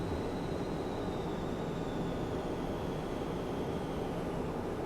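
Eclipse 550 NG jet in a flight simulator game, a steady, dense engine roar with a faint high whine drifting downward, loud and continuous throughout with no talking.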